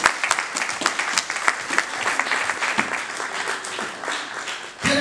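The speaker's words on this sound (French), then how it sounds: "Est-ce que nous pouvons acclamer la parole du Seigneur?" A church congregation bursts into sustained applause after a sermon reading, dense clapping from many hands filling the room steadily for several seconds, with a brief dip near the end before resuming.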